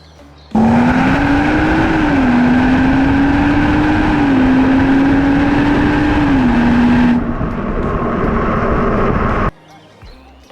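A BMW M140i engine drones loudly and steadily with a rising and falling pitch as the car drives, then cuts to a quieter interior hum before going nearly silent.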